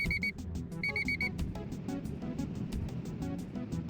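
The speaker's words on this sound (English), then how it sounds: "That beeping's not annoying." Rapid electronic beeps come in two quick bursts of repeated tones, loud over a steady low rumble of game background noise.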